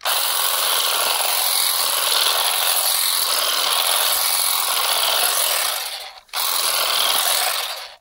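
A steady, loud buzzing whir of a brush cutter trimming tall grass runs continuously, briefly dropping out near the end before resuming at full strength.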